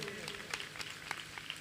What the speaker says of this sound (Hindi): ताली बजाओ बच्चों के लिए।